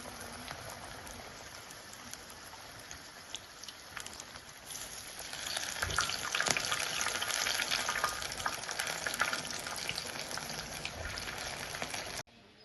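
Ajwain leaf fritters (bajji) deep frying in hot oil, a steady dense crackling sizzle that grows louder about halfway through and runs on without pause, close up and with no talking.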